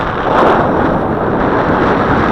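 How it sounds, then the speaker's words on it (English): Strong wind buffets the microphone outdoors during a windy-day flight of a Hubsan H111 Q4 nano drone, a loud, steady roar with no letup. "It's the only way to fight this wind."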